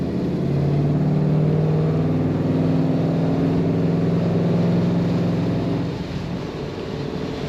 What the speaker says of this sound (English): I love the low thump. When you get into low RPMs, it just sounds good in this car.